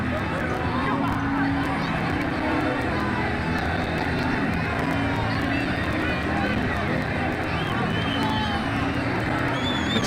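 A big crowd in a cricket video game stadium keeps roaring after a six in an India versus Australia T20 World Cup match, a loud, unbroken cheer throughout.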